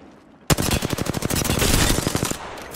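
Rapid automatic gunfire erupts suddenly in a video game firefight on the Cap City map, with dense, loud bursts of shots running back to back from the start of the fight to the end.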